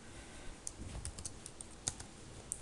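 Code is typed on a computer keyboard in a steady patter of close, quiet key clicks, with a few sharper keystrokes standing out.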